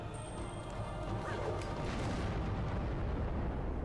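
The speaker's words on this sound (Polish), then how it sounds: "coś się wzięło i wybuchło." Explosion in the video game Tomb Raider Legend, a dense, rumbling crash with debris-like noise that fills the whole stretch at moderate level, with no speech over it.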